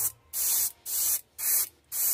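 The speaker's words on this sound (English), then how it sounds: "always spray your airbrush first, because you will get a shot of water" An airbrush spraying gold paint hisses in four even, sustained bursts separated by short pauses, close and bright.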